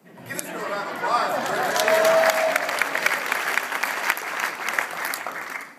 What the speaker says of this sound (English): Give us a round of applause